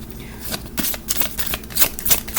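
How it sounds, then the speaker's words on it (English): A deck of cards being shuffled close by, a series of quick riffling bursts and soft slaps repeating over a couple of seconds. "I'm hearing shuffle, so I'm going to shuffle this out."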